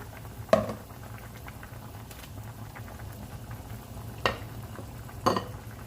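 Seasoned chicken feet are stirred in a pot, with a few sharp knocks of a spoon against the side over a soft, steady simmering murmur, close by and with no voices.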